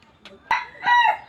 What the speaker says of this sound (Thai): โอ้เสียงไก่กระคันเนาะ